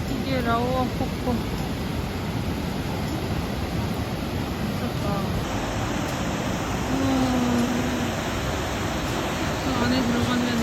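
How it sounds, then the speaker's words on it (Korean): A powerful waterfall in the Banff area of Canada roars as a dense, constant rush of water, with a person briefly exclaiming and faint voices over it. "이게 라오아 폭포"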